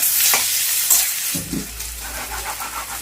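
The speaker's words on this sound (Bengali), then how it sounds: "একটু পেঁয়াজ দিয়ে দিলাম একটু নেড়ে চেড়ে দিচ্ছি" Onions frying and being stirred in a pan for a dry chickpea ghugni, a steady close sizzle broken by scraping and clattering strokes of the spoon, with no talking over it.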